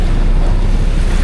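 Sea waves and strong wind out on open water from a small boat at dusk, a loud steady rush of surf and wind buffeting the microphone with no voices.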